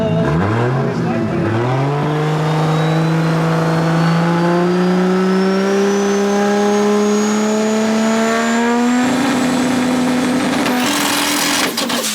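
Car engine at a car meet revving hard and holding high, its pitch climbing steadily for about ten seconds before a brief jump near the end, loud and close, with voices nearby.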